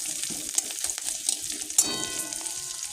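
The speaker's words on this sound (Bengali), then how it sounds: "এবার পেঁয়াজগুলো দিয়ে দেবো, হালকা করে নাড়াচাড়া করে নেবো।" Onions frying lightly in a pan for a semolina upma while being stirred, a steady soft sizzle broken by scraping and clicking of the spatula against the pan, close and alone.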